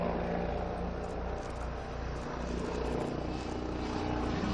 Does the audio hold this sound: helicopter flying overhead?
yes